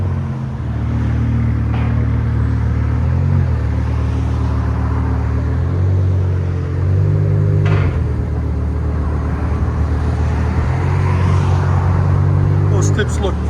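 A 500 hp BMW M5 with a 5.0L V10 and straight pipes idles loudly up close, a deep, steady rumble with slight rises and dips in pitch across the stretch.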